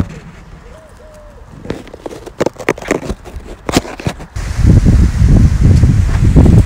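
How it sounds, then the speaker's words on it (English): Wind gusting through foliage in muggy, cloudy UK summer heat ahead of a storm; scattered close knocks and crackles give way to a loud, steady windy rush in the last seconds. "It's turned very windy, cloudy."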